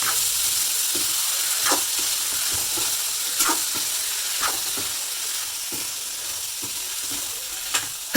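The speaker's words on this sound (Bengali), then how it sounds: "তারপর একটু কষিয়ে নিতে হবে" Dried churi fish curry with tomato sautéing in a pan, a soft hiss of frying under repeated scraping strokes of a spoon at an irregular rhythm, close by and without speech.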